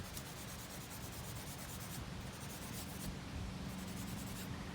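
Vine charcoal scrapes across paper in a steady, soft, continuous rubbing of strokes, faint and close, with no voices.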